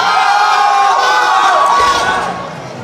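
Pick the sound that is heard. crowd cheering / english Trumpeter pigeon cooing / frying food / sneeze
crowd cheering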